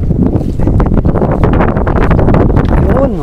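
Strong wind roars across the microphone on a fishing trip in shallow water, loud and continuous with gusty rustling, while people talk under it.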